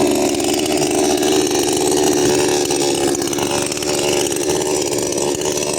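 A Dnipro-M petrol chainsaw runs loud and close at a constant high pitch, its engine buzzing continuously throughout with no pauses, while cutting down small trees.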